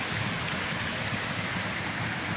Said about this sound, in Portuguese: Olha o barulho aí da água.